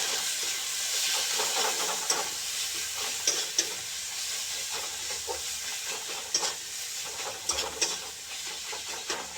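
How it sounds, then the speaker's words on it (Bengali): Chicken sizzles and hisses in a hot pan with a little Maggi masala for a chicken and chana dal curry. A steady close frying roar runs throughout, broken by scrapes and knocks of stirring, with no talk. "সামান্য ম্যাগি মশলা দিয়ে একটু ফ্রাই করে নেওয়া"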